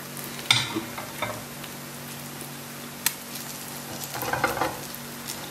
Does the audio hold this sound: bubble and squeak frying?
yes